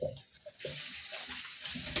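Water running and splashing as lead fishing weights are rinsed in an old colander, a steady close wash of flow after a few brief clinks and splashes at the start.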